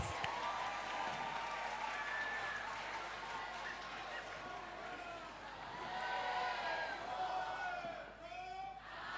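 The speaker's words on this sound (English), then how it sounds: "Give yourselves a round of applause." Participants at a university campus community safety programme clap and murmur in a large room, with a soft, continuous wash of applause mixed with crowd chatter.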